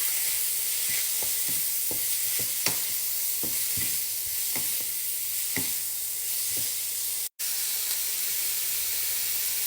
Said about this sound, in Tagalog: Pwede na natin ilagay yung pork. Igisa na natin hanggang mamula-mula.